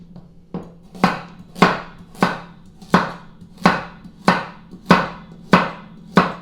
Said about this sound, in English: I can kind of just cut them in half or even quarter them, or just make them in little smaller pieces